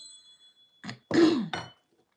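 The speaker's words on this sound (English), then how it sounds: "let's call in spirit with a little bit of wind chime time" Short bursts of chiming, set off to call in spirit during a reading, ring out alone in a quiet room, in three brief clusters with a faint tail at the end.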